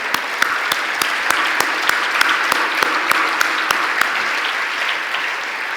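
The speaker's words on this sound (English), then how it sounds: "let's give a big round of applause" Applause for a veteran at a breakfast event: a full crowd clapping loudly and steadily, with a few sharp individual claps standing out near the front throughout.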